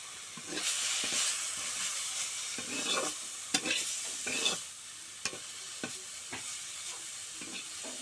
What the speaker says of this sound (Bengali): এখন এটাকে সুন্দর করে ভাজা করে নেব।